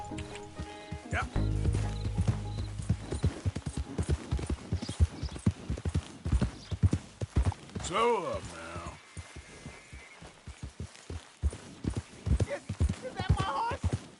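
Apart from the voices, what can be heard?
horse hooves clip-clopping in a video game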